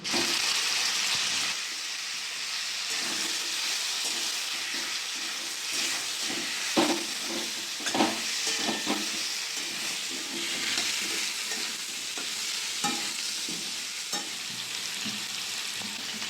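Chicken frying in oil in a pan while being stirred, a continuous close sizzle with intermittent scraping and clatter from the spoon against the pan.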